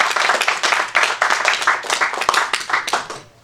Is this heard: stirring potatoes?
no